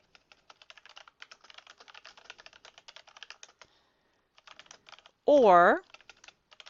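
Steady rapid typing on a computer keyboard, close and fairly quiet, with a short pause midway and a brief vocal sound near the end.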